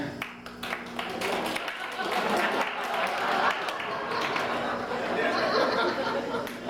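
Comedy club audience clapping and chuckling during a stand-up set, a broad, dense wash of applause mixed with crowd chatter and scattered laughter, steady and fairly loud throughout.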